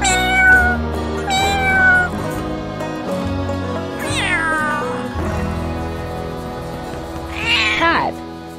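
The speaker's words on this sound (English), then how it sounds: "Meow. Cat." A domestic cat meows loudly and clearly twice, with long drawn-out calls over a steady musical background.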